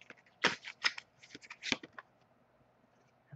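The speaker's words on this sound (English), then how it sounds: "As I shuffle the deck" A tarot deck being shuffled by hand, with a few crisp riffling bursts of cards close up, then quieter fiddling as the shuffle slows to a stop.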